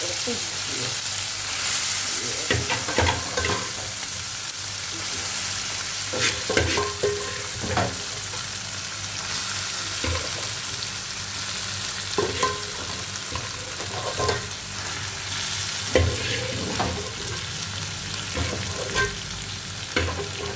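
Chicken roll filling fries in a pan, a continuous close sizzle broken by repeated scraping and stirring strokes at irregular intervals, with no speech over it.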